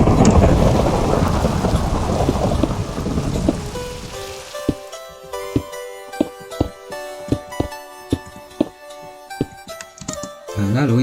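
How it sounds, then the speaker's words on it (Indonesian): Rain and rolling thunder in the Minecraft video game give a dense, loud downpour with deep rumbles. After a few seconds this fades and gives way to a steady run of sharp, evenly spaced clicking tones. "Hujan ya guys ya, kita ubah dulu cuacanya."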